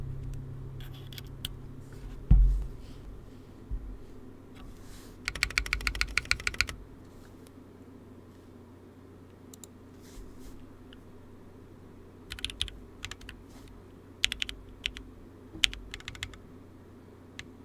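Bursts of typing on a rebuilt Aeroboard70 mechanical keyboard, quick clacky keystrokes in short runs separated by quiet pauses, close up in a quiet room.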